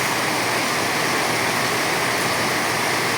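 Heavy rain pours down in a dense, loud, unbroken hiss that holds steady from start to finish, with no voices over it.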